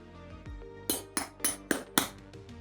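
A knife cracks through the crispy skin of a Cebu-style roast lechon pork belly, giving about five sharp, close crunches in quick succession with no talking.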